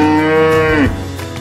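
A cow lets out a single long, loud moo with a rich harmonic tone that drops in pitch at the end, heard up close with no other voices.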